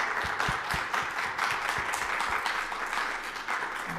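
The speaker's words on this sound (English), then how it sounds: "let's give a round of applause for our panelists." Audience applause for panelists at a college alumni networking event and career panel, steady sustained clapping from a room full of people, even in loudness throughout with no talking over it.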